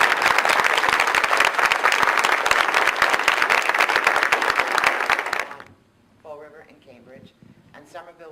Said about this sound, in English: offer a round of applause to them.